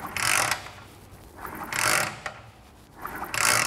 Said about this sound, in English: So the next thing is to crank it over and see if we've got a spark.